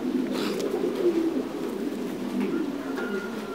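Thai Titan meat pigeons coo in low, throaty rolling calls at a breeding farm, several birds overlapping continuously and close by, with a faint higher chirp near the end.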